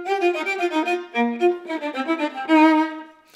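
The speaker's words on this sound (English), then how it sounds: "the accent being driven by a quick vibrato impulse" Solo viola playing a passage from Mendelssohn's Scherzo from A Midsummer Night's Dream, light quick notes with accents pushed by a fast left-hand vibrato impulse, close and clear with no talking.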